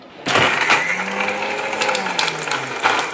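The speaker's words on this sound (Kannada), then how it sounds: "ನೋಡಿ ಇವಾಗ ಮಿಕ್ಸಿಲಿ ರುಬ್ತೀನಿ" A kitchen mixer grinder blends cumin, pepper, chillies and garlic for rasam, a loud continuous whirring grind with slight changes in pitch that runs steadily through the whole stretch, close up, with no talking.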